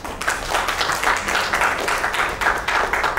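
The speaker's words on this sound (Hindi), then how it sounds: "उसके लिए जोरदार ताली हो जाए" Enthusiastic applause rises from the crowd at a women's celebrity cricket launch, a steady dense patter of many hands clapping for several seconds, fairly close and loud.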